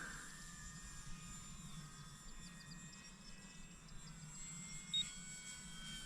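A small electric-powered RC 3D-printed PZL.50 Jastrząb scale model plane flies at a distance, a faint steady high-pitched motor whine with slight pitch shifts over a low background rumble.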